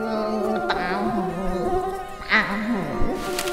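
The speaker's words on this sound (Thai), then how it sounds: "เราได้ยินเสียงของยุงซึ่งขนาดนี้มีขนาดที่เล็กมากมันจึงได้มีเสียงร้องว่า" A thin, wavering mosquito whine from a tiny insect, steady and close throughout, rising and bending in pitch as it seems to circle, heard alone without talk.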